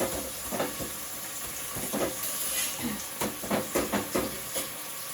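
A slightly stiff roti fries on an iron tawa with a soft, steady hiss. Repeated brief scraping and pressing noises come up in irregular bursts over it, and a voice speaks faintly in the background.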